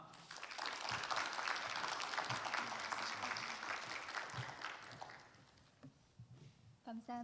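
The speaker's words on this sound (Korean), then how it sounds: "나오실 때 환영의 박수로 맞이하도록 하겠습니다." Audience applause welcomes a professor at a lecture hall event, a dense steady clapping that fades after several seconds, followed by brief voices and light knocks.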